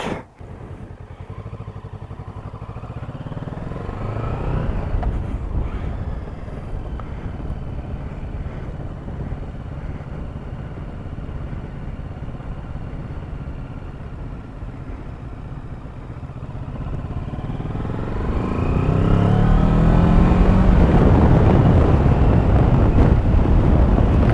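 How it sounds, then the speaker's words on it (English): A 2022 Kawasaki Versys 650 motorcycle rides along, its engine droning steadily under wind noise, then rising louder as it accelerates near the end. "so this is the Kawasaki Versys 650 2022 model year, and we will go back to the dealer now"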